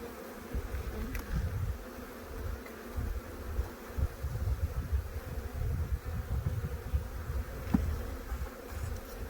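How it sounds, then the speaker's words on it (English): Honey bees buzzing around beehives on a farm, a steady low droning hum from many insects close by with occasional louder passes, no talking. "you just have the hum of the hives and the bees buzzing around"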